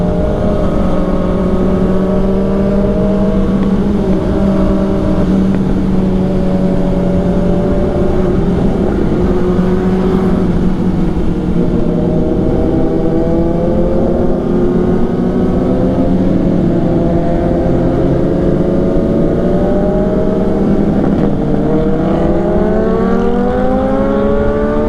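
A loaded Kawasaki Ninja ZX10RR sportbike engine revs loudly and continuously on a first ride of the year, its pitch climbing and falling through gear changes, with popping from the exhaust and other motorcycles riding nearby.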